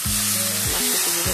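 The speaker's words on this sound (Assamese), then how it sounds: "এনেকৈ 1-2 মিনিটমান ভাজি ল'ব ধুনীয়াকৈ" Fish fries in a pan for an Assamese hukoti dish, giving a steady, close sizzle, with a low droning tone that shifts in short steps running through it.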